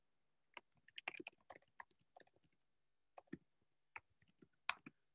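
Keystrokes on a computer keyboard while writing in a Google Docs document, heard as quiet, irregular bursts of clicks with short pauses between them, alone with no talking.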